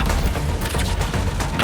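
Dense, rapid gunfire crackles continuously with booming blasts mixed in, a loud chaotic burst of shooting and explosions in the video game Suicide Squad: Kill the Justice League.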